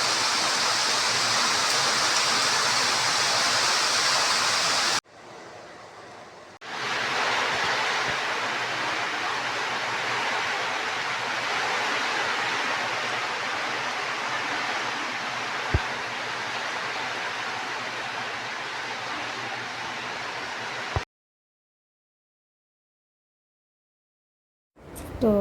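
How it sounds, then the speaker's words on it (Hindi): Heavy rain pours down steadily and loudly close by, a dense rushing hiss that dips briefly, returns at full strength, then cuts off abruptly near the end. "देखो यहाँ पर बारिश कितनी तेज़ हो रही है।"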